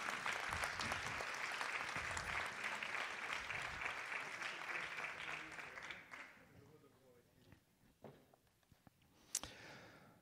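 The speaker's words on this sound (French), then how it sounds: "vous avez le droit de les applaudir" An audience at a conference on fighting isolation applauds, steady clapping for about six seconds that fades into a quieter room with a few scattered claps and clicks.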